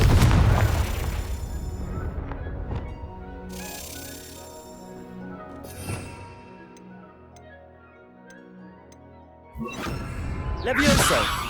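Confringo blasting-spell explosions in Hogwarts Legacy, set in the Forbidden Forest, burst loudly at the start and again near the end, with sharp magical cracks and whooshes between them over a low ticking game score.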